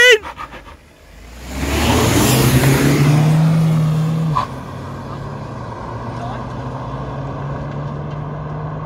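A Tata Harrier with a 2-litre engine and a Hyundai Verna 1.6 automatic launch in a drag race, a loud close engine roar building and holding, then easing to a steadier drone as the cars pull away, with talking heard at the start.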